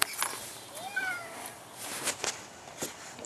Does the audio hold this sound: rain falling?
no